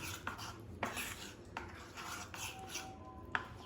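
Vegetable lollipop batter is mixed in a bowl, with soft, faint spoon clinks and scrapes against the dish at an uneven rhythm and no voices.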